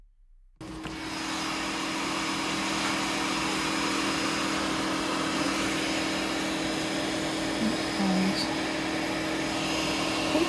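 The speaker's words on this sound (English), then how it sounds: "let's take this over to the printer and get this printed" A continuous mechanical whirring hum with steady fan noise and faint motor tones, close and unchanging, from a 3D printer printing onto acrylic.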